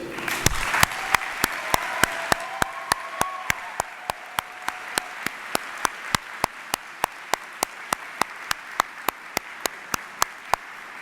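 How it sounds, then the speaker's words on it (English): A large hall audience at a spring business school convocation breaks into sustained applause with brief cheering near the start, a dense even wash of clapping that runs the whole way, cut by a regular train of sharp clicks. "join me in giving a heartfelt round of applause and cheers to thank the people who helped you reach this special moment in your lives"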